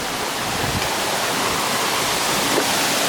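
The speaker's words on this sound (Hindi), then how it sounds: "वाटरफॉल का आवाज़ तो सुनाई दे रहा है।" Limdarha waterfall in Keshkal roars steadily as broadband rushing water, loud and continuous with no break.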